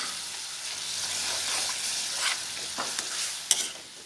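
Soya chunks cook in a pan over a low gas flame, a soft continuous sizzle with occasional light stirring scrapes and a sharper clack near the end, nearby and unaccompanied by speech.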